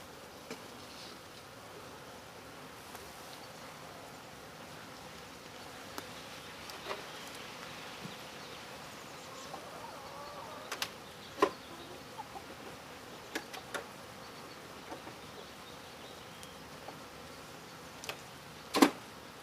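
Honey bees hum faintly and steadily around backyard hives on a small homestead. Scattered brief ticks and knocks rise above the quiet background drone.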